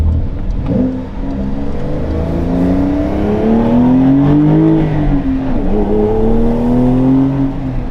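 A 2025 Porsche 911 Carrera T engine revs up and down through the gears, a loud close rising and falling whine that surges steadily with no break or talk.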